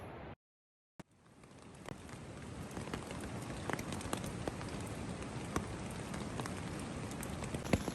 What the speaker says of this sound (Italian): Piove.